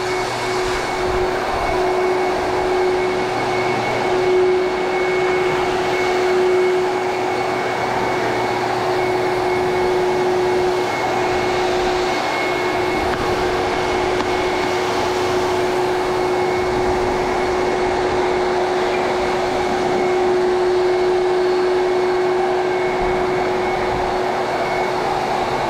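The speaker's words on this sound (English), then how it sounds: "Okay, air dryer. There it is." A car wash air dryer gives a loud, steady roar of blowing air with a constant hum underneath, continuous and unchanging throughout.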